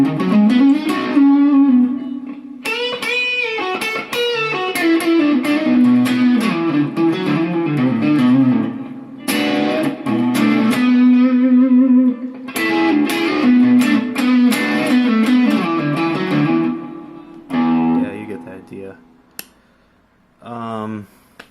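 Heavily overdriven electric guitar through an overdrive pedal in turbo mode, playing sustained, buzzing chords and riffs, loud and close, with brief breaks and picking near the end.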